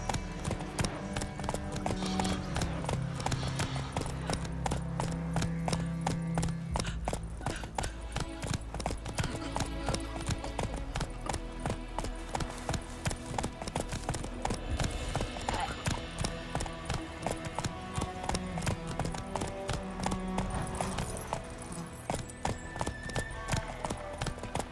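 Steady clip-clop of hooves from Roach, the horse in The Witcher 3, runs unbroken for the whole stretch under game music and ambience, with a voice speaking at times.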